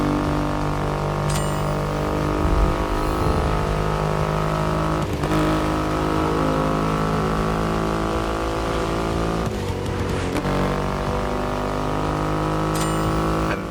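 A Triumph Rocket 3 motorcycle with a 2.5-liter engine, in the racing game The Crew Motorfest, drones loud and steady with a deep, rumbling hum, broken by a few brief shifts in revs across the run.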